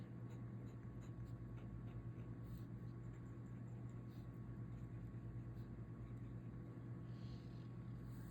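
Faint scratching of a Koh-i-Noor Rapidograph technical pen filled with fountain pen ink moving across paper, a continuous soft rasp, close up over a steady low background hum.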